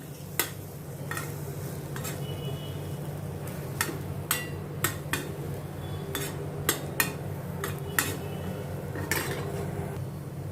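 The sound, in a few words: mixing chopped boiled potato into onion chaat mixture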